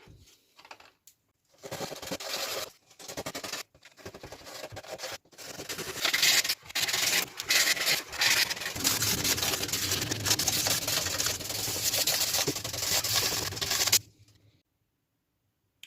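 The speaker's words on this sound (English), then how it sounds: "then we'll give it a little sanding down" Sandpaper rubs against routed plywood in bursts of rough scraping, pausing briefly between strokes, then becoming continuous before stopping abruptly.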